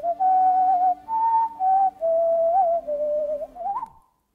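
A man whistles a short melodic tune alone, clear and close, in a run of sustained notes broken by brief pauses, the phrase rising and sliding away at the end.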